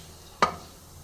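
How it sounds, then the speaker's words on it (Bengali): Cumin seeds and a dried red chilli hitting hot oil for a potato-fritter curry, a single short burst of sizzle that flares sharply and fades within half a second, alone against a quiet background. "সাদা জিরে আর একটা শুকনো লঙ্কা ফোড়ন দিলাম"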